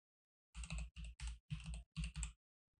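Someone types on a computer keyboard in a quiet room, about six short bursts of close, crisp key clatter with brief pauses between them.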